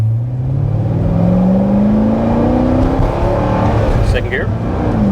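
A 2008 Corvette Z06's 427 LS7 V8 revs up steadily in second gear, its pitch rising as it accelerates hard, loud and close, with a brief squeak near the end.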